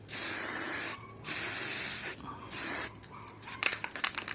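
Spray-can paint hisses onto the wiper cowl of a Honda Civic EG hatchback with a D15B engine, in three steady bursts of about a second each, close up, followed by a few short sputtering sprays.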